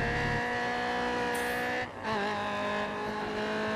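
A high-revving race car in the GRID Autosport racing game screams at a steady high pitch, with a brief gear-change dip midway before climbing again, loud and close, with no talking.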